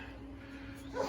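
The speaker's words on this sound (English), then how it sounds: "Stupid dog." A dog barking and whimpering somewhere around a garage during an engine and transmission swap on a 1992 K1500 pickup, faint and distant, with a short yip at the end.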